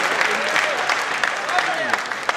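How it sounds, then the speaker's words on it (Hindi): An audience at a Hindi comic poetry gathering claps in a steady burst of applause while a voice carries on speaking over it. "ताली जोरदार बजा दीजिए।"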